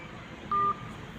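A phone's ringing tone sounds as a single short, steady electronic beep over a constant low background hiss.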